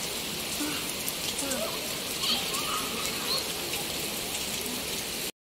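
Rain falling at a swimming pool, a dense steady patter of drops spread across the surface, with faint voices and bird calls underneath.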